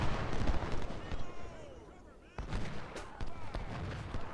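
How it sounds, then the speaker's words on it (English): Artillery fire in Ultimate General Civil War, a Civil War cannon battle: several sharp booming reports and crackling musketry over rumbling battlefield noise, with a voice talking throughout. "We have another shot from the artillery and that stops him in his tracks."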